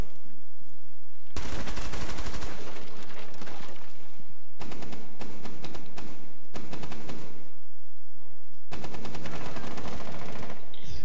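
Loud, dense bursts of automatic gunfire in the tactical shooter Rainbow Six Siege, several sustained volleys separated by short pauses, close and dominating.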